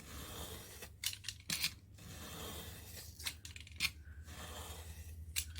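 A craft knife trims a 12x12 sheet of scrapbook paper, giving several short, crisp scraping cuts in bursts with quiet pauses between, close and fairly soft over a low steady hum.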